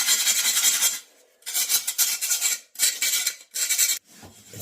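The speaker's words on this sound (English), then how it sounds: "the little gator sander. Just to maybe polish it a little." A small Gator sander buffs the freshly cut edge of a bathroom piece, making close, loud raspy scrubbing in four bursts of about a second each, separated by short pauses.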